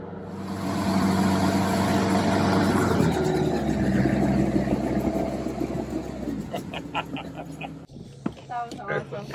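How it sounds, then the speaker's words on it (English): A SHERP ATV engine driving up a steep hill gives a steady, mid-pitched drone that eases off toward the end, while people talk over it throughout. "That's a fairly steep hill that we're driving up here right now."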